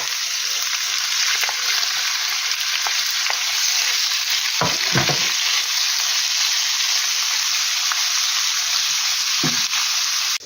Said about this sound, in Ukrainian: Вже почали смажитися, йду сюди закидати ці кусочки хасмарівці.